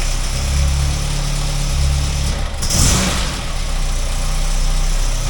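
A car engine runs at a steady, loud idle after an alternator repair, a continuous low rumble with a brief rev or disturbance midway.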